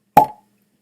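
A real cork pops out of an Arran Amarone Cask Finish single malt Scotch whisky bottle: one sharp, close, hollow pop that fades quickly, with no talking.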